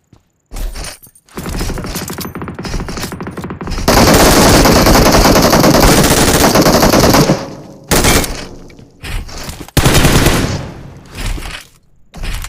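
PUBG Mobile gunfire: loud, close automatic bursts, one long sustained volley in the middle followed by shorter bursts separated by brief silences, with no talk.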